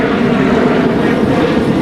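A Southwest airliner passing overhead, a loud, steady broadband engine roar with no pauses and no talk.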